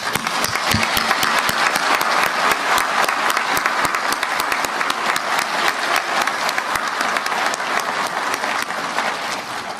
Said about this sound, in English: Please join me in a round of applause for your officer candidates.